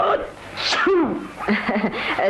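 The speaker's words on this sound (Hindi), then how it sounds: "जरा सी हवा लगते ही छींकों के मारे बुरा हाल हो जाता है।" A performer in a Hindi radio comedy play gives a loud theatrical sneeze, close to the microphone, with voiced sounds around it.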